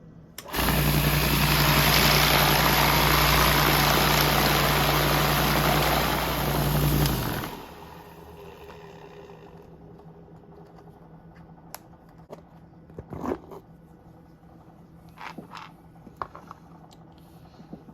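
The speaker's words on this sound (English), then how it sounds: "This is just the Central Machine vibratory tumbler." A Central Machine vibratory tumbler from Harbor Freight, polishing brass on a bench, runs with a loud, steady buzzing rattle for about seven seconds, then stops abruptly, leaving only scattered faint clicks and ticks.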